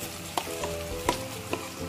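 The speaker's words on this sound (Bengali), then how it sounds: "এবার আমি পুরটাকে ঢেলে দিচ্ছি" Ground kakrol (spiny gourd) seed filling goes into a pan of frying onions, giving a steady soft sizzle broken by a few sharp scrapes and knocks of stirring, close and moderately loud.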